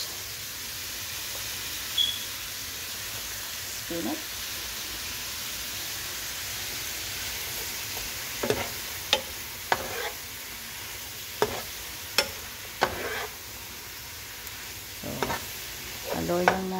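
Spinach fries in kimchi fried rice under a steady soft sizzle, with a series of sharp scraping strokes from a spatula stirring the pan, close up and without talking.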